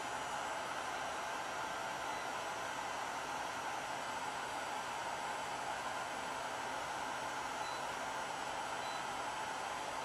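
Hair dryer running continuously, a steady, fairly faint airy whoosh that stays unchanged throughout, with no voices.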